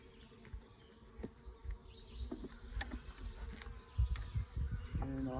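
Carniolan honey bees buzz steadily during a spring hive inspection, with a close, continuous drone and occasional clicks and knocks as frames are handled, rising a little toward the end.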